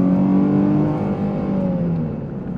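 A Dodge Charger SXT with a V6 accelerates hard from a traffic light, its engine note loud and close, climbing in pitch as the revs build and then easing slightly toward the end.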